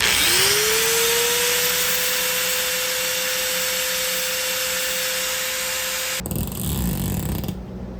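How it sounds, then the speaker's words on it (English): A small handheld grinder shaves down heavy-duty metal shelving brackets, its steady high whine spinning up at the start and running loud and continuous for about six seconds before cutting off into brief clatter. "we're gonna have to shave them down in the middle. So I'm just using a little grinder."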